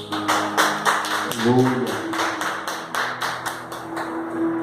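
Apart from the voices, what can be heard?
church congregation applauding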